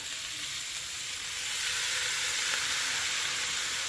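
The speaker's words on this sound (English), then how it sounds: "crank that up to high, and now I'm going to add all of my shrimp" Shrimp hit a pan cranked to high heat for quick tacos and sizzle loudly and steadily up close, a dense frying hiss that swells slightly partway through, with no voices.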